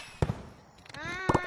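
Video game fireworks go off in two sharp, close bursts with crackling pops, separated by about a second, alongside brief tonal whistling sounds.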